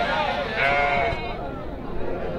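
A sheep bleats up close in a long, wavering call over a busy background murmur at the Nallapadu sheep and goat market in Guntur.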